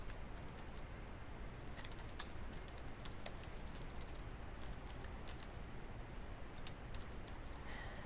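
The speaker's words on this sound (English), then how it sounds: "So here I can type in my message." Fingers type a message on a computer keyboard, a quick irregular patter of light key clicks over a steady hiss of background noise, faint and sustained without talk.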